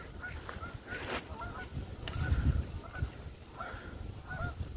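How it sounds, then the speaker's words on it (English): Several geese honk repeatedly at a moderate distance over a soft outdoor background, with no voices. "we're about to sneak up on some geese"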